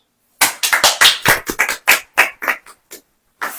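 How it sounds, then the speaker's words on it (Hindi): A congregation at a Christian sermon claps hands in short, irregular bursts, about a dozen sharp claps, some of them doubled. They come close and loud, then stop before one last clap. "ताली बजाओ"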